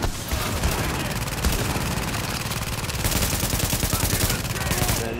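Rapid bursts of turret gunfire in a video game, dense rattling shots that run almost continuously and loudly, with a brief dip near the middle.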